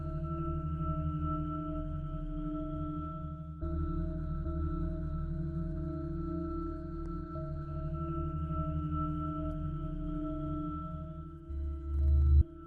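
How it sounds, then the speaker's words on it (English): A sonified space recording, presented as the sound of Uranus's ring, forms a steady, layered electronic hum of sustained tones with faint warbling and shifting pitches, then fades into a brief low rumble at the end. "This is the sound of Uranus's ring."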